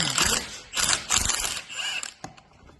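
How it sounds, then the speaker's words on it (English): Ratchet fitting the caliper retaining bolts on the rear axle of an Iveco 75E15 truck, heard as several loud, close bursts of rapid ratcheting with short pauses, ending in one sharp click. "I'm going to put on the two top caliper retaining bolts."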